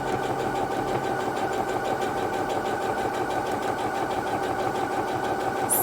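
A Singer HD6805 sewing machine, run with its start/stop button instead of the pedal, stitches fabric in a steady, close mechanical whir with fast rhythmic ticking throughout.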